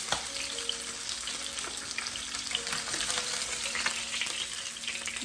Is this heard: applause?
no